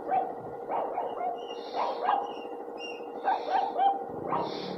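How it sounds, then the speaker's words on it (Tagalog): A puppy barks in short, sharp bursts, several yips spread across a few seconds, fairly close and clear with no talking over it. "Ang tapang nitong tuta na to eh."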